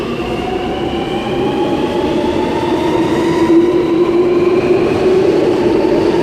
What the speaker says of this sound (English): Now departing platform number 3 for a Tallawon service.